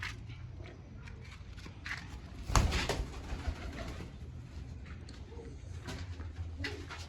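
A pigeon coos in a loft, low soft repeated calls against a quiet noisy background, with a sharper knock or scuffle near the middle.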